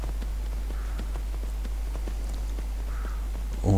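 Horse hooves clip-clopping at a walking pace in the video game Skyrim, a faint, steady stream of soft hoof beats over a constant low hum.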